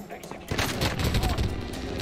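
Gunfire from the video game Warzone, a dense rattling barrage of shots beginning abruptly and continuing steadily at moderate volume, with some voice mixed in beneath.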